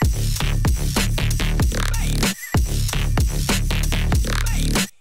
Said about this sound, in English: as you can see, a really heavy bass.